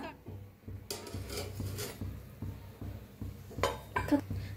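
A metal strainer clinks and scrapes against a pan as fried semolina puris are lifted out of hot oil, with soft tapping and a few sharper metallic clinks near the end, all fairly quiet and close.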